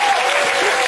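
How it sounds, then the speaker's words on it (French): A brief burst of dense audience applause in a comedy show studio, a full, continuous patter of many hands with no break. "Est-ce qu'on peut l'applaudir s'il vous plaît?"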